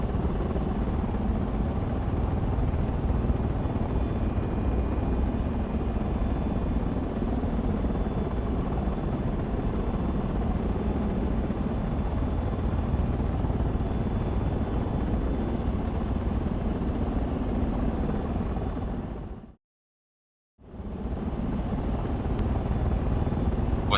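A V-22 Osprey tiltrotor in the Project Reality video game flies with a steady, loud rotor and engine drone that continues throughout, broken by a single brief cut to silence near the end.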